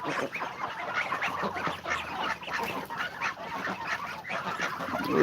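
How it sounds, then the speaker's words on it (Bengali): A flock of farm ducks quacking and honking together, a dense continuous chorus of overlapping calls heard nearby. "হাঁসগুলো কথা কবি"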